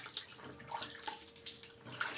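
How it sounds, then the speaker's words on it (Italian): Water splashes faintly and close by as a face is wetted with the hands for shaving-soap lathering, in a few soft, irregular splashes and drips. "Ora ci andiamo a bagnare il viso veramente"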